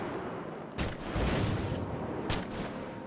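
Two sharp sniper rifle shots crack out about a second and a half apart in Batman Arkham City, each followed by a rolling rumble over a steady background hum.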